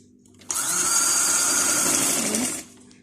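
Sewing machine stitching alongside buckram on the neckline of a simple qameez, a steady close mechanical whir that starts abruptly, runs for about two seconds, then stops.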